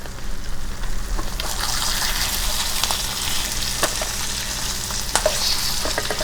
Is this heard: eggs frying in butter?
yes